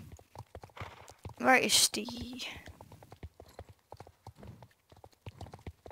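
Hoof clip-clops from a horse in the online riding game Star Stable Online, a slow, steady walking rhythm running throughout beneath quiet whispered talk, with a brief brighter burst of game sound midway.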